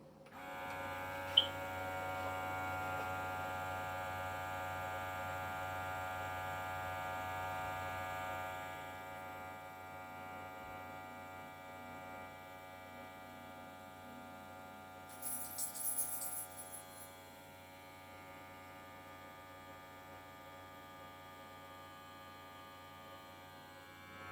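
A small vacuum sealer pump runs with a steady, moderately loud electric hum for about eight seconds, then settles to a quieter drone, with a brief hiss-like burst midway and no talk.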